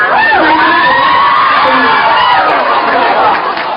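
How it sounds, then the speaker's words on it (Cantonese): Excited fans at a celebrity calendar signing event scream and cheer continuously in a loud, close crowd roar, with high-pitched shrieks rising and falling throughout. "用掌聲來謝謝他"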